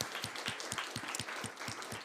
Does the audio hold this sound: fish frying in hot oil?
no